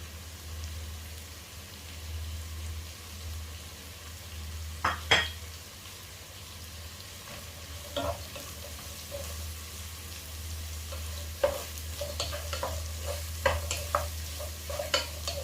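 Chopped shallots fry in a pan for a Kerala-style beef heart roast, giving a soft, even sizzle broken by sporadic spatula scrapes and clinks over a low, constant hum.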